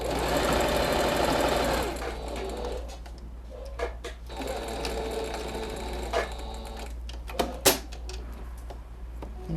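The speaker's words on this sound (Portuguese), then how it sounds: "começa a costurar" A sewing machine stitches fabric for a moustache-shaped cushion: a steady, fast whirring run for about two seconds, then shorter bursts broken by mechanical clicks and knocks.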